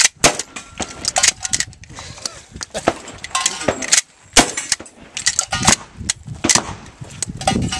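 Rapid shotgun blasts ring out at a shooting competition stage, a string of loud sharp reports in quick irregular succession, with voices nearby between shots.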